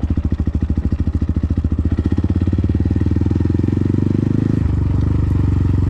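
A motorcycle engine runs steadily close by with a rapid, even firing pulse and a low rumbling tone, holding a constant idle-like rhythm throughout with no voices.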